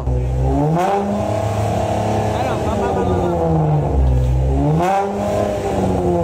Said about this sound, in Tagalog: Ito nga pala yung tunog supot nung time na hindi ko pa pinapagawa yung tambucho ko.